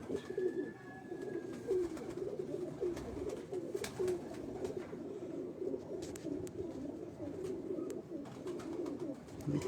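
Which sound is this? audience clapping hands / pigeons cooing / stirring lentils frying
pigeons cooing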